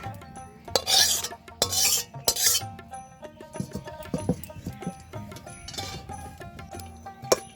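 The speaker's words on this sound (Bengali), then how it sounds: "জলটা এইভাবে খুন্তি দিয়ে চেপে চেপে বের করে দেবো।" A metal spatula presses and scrapes boiled taro leaves against a pot, producing bursts of gritty rasping and squelching, with clinks of metal in between, close and uneven.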